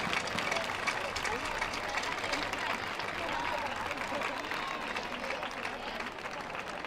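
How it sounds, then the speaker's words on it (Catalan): A large outdoor crowd gives sustained, dense applause after a farewell performance of a traditional dance at a Catalan giants' festival ceremony in Sant Climent de Llobregat, steady and loud throughout with crowd noise mixed in. "Un fort aplaudiment per ells."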